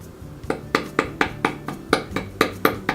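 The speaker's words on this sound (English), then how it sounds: "so I just use a hammer" About ten sharp hammer taps driving upholstery staples into a dining chair, in a steady rhythm, close up and fairly crisp, with brief pauses between strikes.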